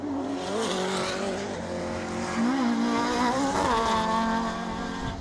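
Rallycross race cars, led by a Mark I Golf, roar at full throttle as they come onto the loose surface, with engine notes rising and falling through gear changes and a steady dense racket throughout.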